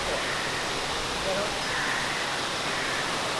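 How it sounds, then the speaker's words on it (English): A waterfall flows in the Pandora area of Disney's Animal Kingdom, making a continuous, even broadband rush of falling water that fills the whole moment with steady hiss and no clear breaks. "Got a waterfall back there flowing."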